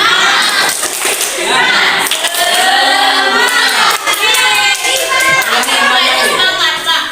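A high school class performs rhythmic 'tepuk semangat' clapping, sharp coordinated hand claps in bursts mixed with loud student chanting and shouting.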